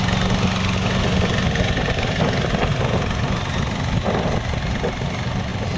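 A remote control hybrid slope mower, the 22T, mowing across a steep hillside of about 30 degrees, its engine running in a steady, continuous drone throughout with no talking.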